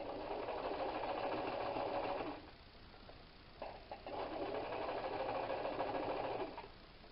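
A sewing machine top-stitches a pillow seam, running in two steady bursts of about two seconds each with a short pause between, close and fairly loud with no talking.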